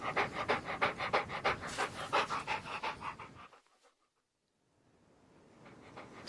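A dog pants loudly and rhythmically in a radio drama, with quick, even breaths close by for several seconds before it cuts to near silence and a faint room hush returns.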